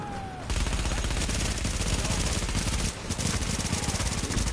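Sustained automatic gunfire from The Division, a loud, rapid stream of shots running almost without pause across the clip, with one brief dip before it resumes.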